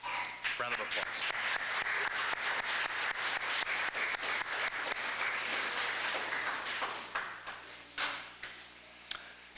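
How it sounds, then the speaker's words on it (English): Sustained round of clapping from a Cub Scout pack gathered at a Blue and Gold banquet in Ste. Genevieve, Missouri, dense and steady for most of the stretch before thinning out near the end, with voices mixed in. "Good job today, guys. Round of applause."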